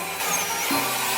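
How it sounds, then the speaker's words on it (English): A drill brush and vacuum work over the carpet of a Toyota RAV4 interior, giving a steady, loud broadband whirring roar with a faint motor whine that holds throughout, with no talk. "I also like to use my drill brush while I vacuum."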